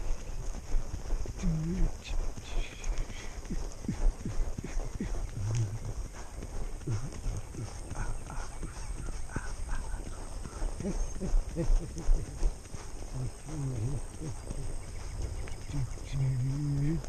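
Hooves clip-clop on the ground as a horse is ridden, the steady footfalls soft and fairly close, with a rider's voice speaking intermittently over the walking rhythm.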